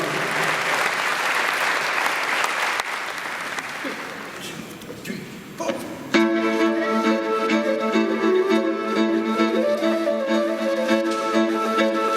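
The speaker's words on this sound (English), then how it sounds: "Give them a round of applause" A concert audience claps loudly for several seconds, then the applause dies down as music starts up.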